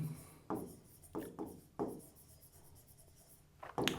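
Chalk or marker strokes on a classroom board during a physics lesson, several short scratchy bursts in an uneven rhythm with pauses between, close and fairly faint, no talking over them.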